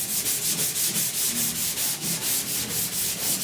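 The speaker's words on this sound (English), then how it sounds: "This is the first round of priming and block sanding." Block sanding of primer/surfacer on a rusty 1969 C10 truck roof, a close, even series of quick back-and-forth abrasive strokes in steady rhythm with no voices.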